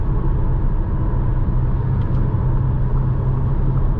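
Cabin of a 2020 Audi A3 Sportback cruising at night, filled with a loud, constant low rumble of tire roar and a soft airy wind rush, steady and unbroken with no talking.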